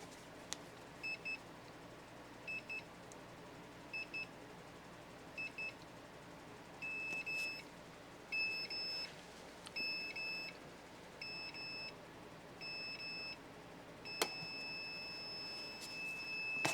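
A Ryobi jump starter on an 8 amp hour battery with 21700 cells beeps during a cold prime. Quiet paired chirps come first, then longer, steadier electronic tones at irregular intervals, thin and close against a faint background.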